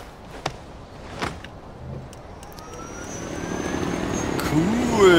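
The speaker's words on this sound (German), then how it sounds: "Ein Hubschrauber, verdammt nochmal" A helicopter's rotor and engine drone in the video game Far Cry 4 rises gradually from faint to fairly loud, with a few brief thumps early on and no talking.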